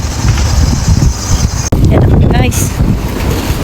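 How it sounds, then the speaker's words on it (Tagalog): Strong wind blows outside a Tesco store, buffeting the microphone in loud gusts, while someone speaks briefly over it. "Nag-ayos ako ng buhok, pero ang lakas ng hangin guys."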